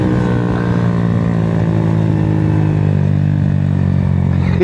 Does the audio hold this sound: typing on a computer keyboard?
no